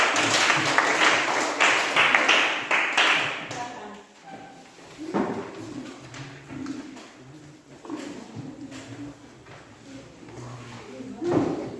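Group applause from a classroom audience for the first student group finishing, a broadband burst of clapping over the opening few seconds that fades into quieter room noise and scattered taps.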